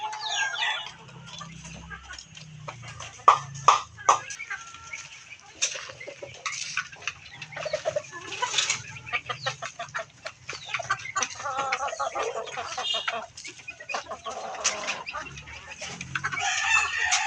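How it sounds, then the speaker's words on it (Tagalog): Pet chickens in a Philippine backyard keep up continual clucking and cackling, broken by crowing from a rooster, some calls close and loud and others further off. "Yan po yung ating mga alagang manok"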